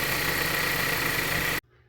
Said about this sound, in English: Now it's just a little bit loud engine, but it's definitely coming from one of them accessories.